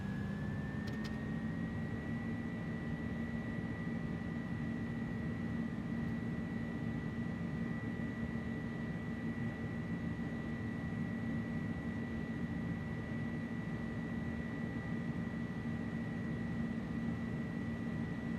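Jet engines of a FedEx airliner at takeoff power in Microsoft Flight Simulator 2024 hold a steady, unbroken roar with a sustained high whine, loud and constant throughout.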